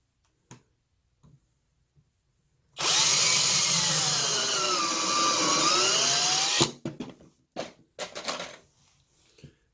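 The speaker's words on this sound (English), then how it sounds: "Now let's pre-drill and screw them together." A power drill pre-drilling wood whines loudly and steadily for about four seconds, then stops, followed by scattered clatter and knocks of handling.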